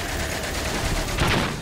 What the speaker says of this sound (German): Ich glaube, da müssen wir zweimal schießen.